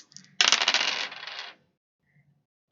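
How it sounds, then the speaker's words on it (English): Dice tumble and rattle across a hard surface for about a second before settling, followed by near silence with a faint voice. "I'm gonna roll dice, see what numbers."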